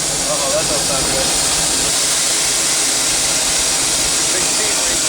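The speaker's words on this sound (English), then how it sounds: "Big steam leak. It's gonna blow." Steam hisses from a leak on the C.K. Holliday steam locomotive in the cab of the Disneyland Railroad, a loud, constant, broadband roar with faint voices beneath it.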